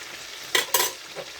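Seafood frying in hot oil, with two short, loud sizzling bursts over a low, steady crackle and a softer hiss near the end.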